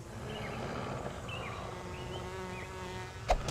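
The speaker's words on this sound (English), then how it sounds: "Here come the wasps." A swarm of wasps in the video game Myth II buzzes as a steady, faint insect drone under low game ambience, ending with a short sharp knock.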